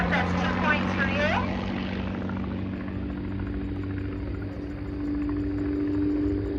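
Vintage Bücker biplane engine droning steadily as it flies past at an old aerodrome air show, a continuous propeller hum that swells and holds, with a voice at the start.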